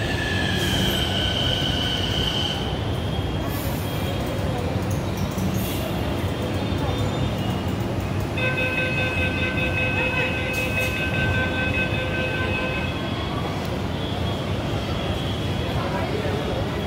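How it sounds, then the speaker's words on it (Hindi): Nagpur metro train pulling into a station, a steady loud rumble of wheels with squealing rail tones and rising pitch, continuous throughout under the station ambience. "देखिए गाइस फिल वक्त ये आ गई है मेट्रो ट्रेन"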